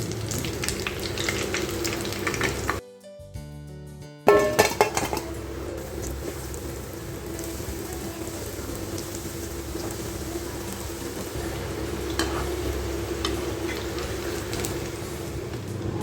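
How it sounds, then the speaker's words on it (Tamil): Paneer cubes for popcorn paneer fry in a pan with a loud, steady crackling sizzle. It briefly drops out, then returns with clattering utensil knocks before settling back into constant frying, with no talk. "நல்லா வறுத்து எடுத்தாச்சு."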